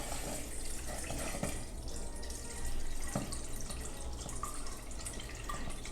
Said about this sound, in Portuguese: Vou completar com mais um pouquinho de água ali no meu caldo.